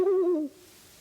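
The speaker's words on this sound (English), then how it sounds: "It's just an owl." Owl hooting, a single close, loud, low hoot lasting about half a second that slides slightly downward and fades into quiet.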